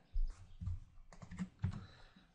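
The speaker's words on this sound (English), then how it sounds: "So I'm gonna try to stick with the quiet keyboard, so just bear with me." Quiet computer keyboard typing in a series of soft, irregular key clicks and thumps, close by, with no talking over it.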